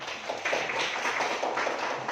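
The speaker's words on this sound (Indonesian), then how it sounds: "Tepuk tangan buat teman yang di belakang." Schoolchildren in a classroom clap for a classmate seated at the back, a soft but continuous patter of many small hands lasting a couple of seconds without talk.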